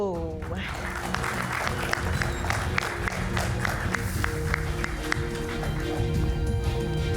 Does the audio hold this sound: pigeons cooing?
no